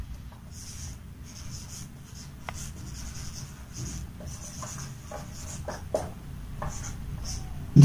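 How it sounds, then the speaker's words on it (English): Pen writing on paper, a math proof being written out, with soft scratchy strokes and short pauses, fairly close and quiet, with no talk. "Now after understanding first line, I will write here."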